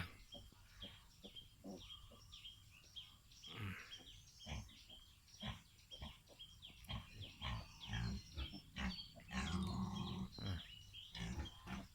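A wild boar that has just given birth to three piglets grunts in short, irregular bursts outdoors, fairly quiet, with a few louder squeals and grunts toward the end.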